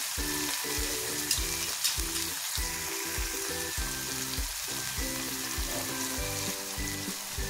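A small whole tomato is stirred into golden fried onion in a frying pan, giving a steady, fairly soft sizzle with a rhythmic low thumping running beneath it throughout.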